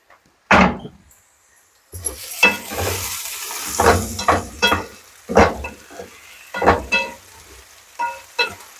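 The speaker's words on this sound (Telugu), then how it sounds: "మనం అరటికాయ వేసుకున్నాం కదా, వైట్ వేపుడికి పెట్టుకున్నాం, కొద్దిగా వేగిపోతుంది." Raw plantain pieces are stirred in a pan for frying, giving irregular scraping and clattering strokes with a soft sizzle underneath, close and fairly loud in separate bursts.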